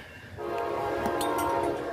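An Amtrak train arrives in a small town, its horn blaring in a steady sustained blast over the low rumble of the approaching train.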